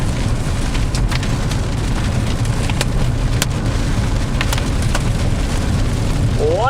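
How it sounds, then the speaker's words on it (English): Hail pelting a storm chaser's car during a severe storm, a dense, constant rattle of small ice hits drumming on the vehicle body, loud and close, with a rising whine at the very end. "We're getting some hail, everybody."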